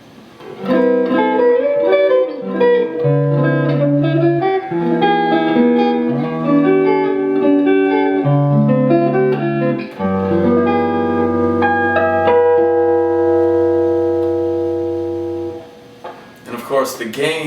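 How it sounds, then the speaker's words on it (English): A 1978 Fender Stratocaster played through a Supersonic amp with the tone knob rolled off gives a warm, jazzy clean tone: a loud, continuous run of chords and single notes, ending on a long sustained chord that fades out. "if I roll off the tone,"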